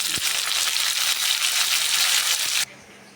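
Green chillies fry in a hot pan with a dense, steady sizzle that carries on for a couple of seconds, then cuts off abruptly, leaving only a faint background hum.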